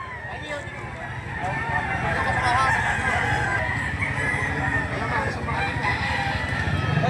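A pumpkin straight comb gamefowl rooster at a Lipa City, Batangas market, heard among other crowing fowl and clucking with steady market bustle and chatter throughout.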